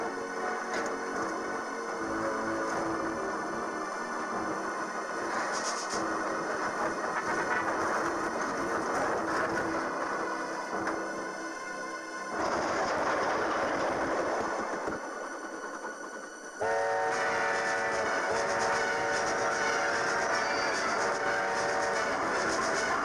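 A train rumbles steadily across a weakened bridge in a tugboat harbor story, with continuous rolling rail noise and clatter, loud and near throughout, briefly dipping before the running sound resumes alone.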